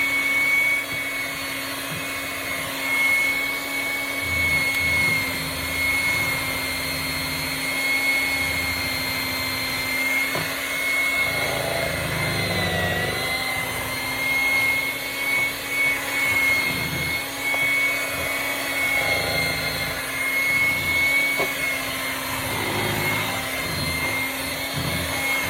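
An electric mixer whirs steadily while mixing cheesecake batter, a continuous motor drone with a faint high whine that holds level throughout with slight rises and dips, and no talking.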